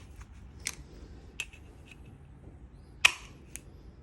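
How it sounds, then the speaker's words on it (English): Snips cutting the corners off sheet metal duct during HVAC slip and drive fabrication, a few sharp separate clicks and crunches, close, with quiet gaps between cuts. "Go ahead and cut the corners off."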